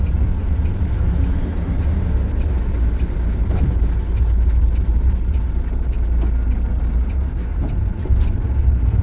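A Hanif Volvo bus engine idles at a fuel pump in Matuail with a steady, loud, low rumble. The drone is broad and continuous, with faint clanks and no voices.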